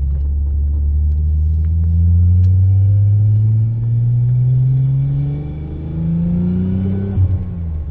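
A Nissan 300ZX gives a short throttle tap, its engine, exhaust and turbo swelling in a loud, close, deep rumbling rev that rises, dips and climbs again over several seconds.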